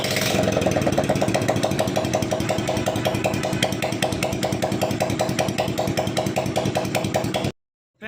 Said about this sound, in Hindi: मैं इसको 3 से 4 मिनट इसको बाइक को चला के रखूँगा।